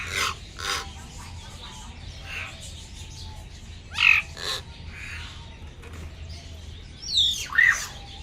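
Wild hill myna calling from a corner of a house, with a few sharp, loud squawks and chirps scattered among quieter sounds and faint background noise.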